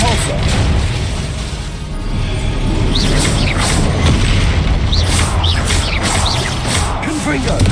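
Repulsor spell blasts in the video game Hogwarts Legacy, loud booming bursts and crashing impacts repeating over a dense, continuous battle din.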